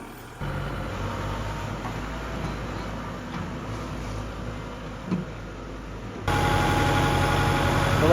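A small tractor engine runs steadily at a low, moderate distance, a continuous rumbling drone that jumps noticeably louder near the end, on a construction site.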